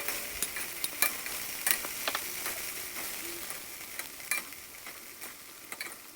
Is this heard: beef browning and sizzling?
yes